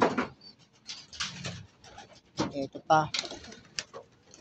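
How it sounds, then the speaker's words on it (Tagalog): Pigeons in a loft in the early morning, still half dark, give soft low coos and shuffling flutters at close range, mixed in with someone talking. "Ayan ating kalapate oh."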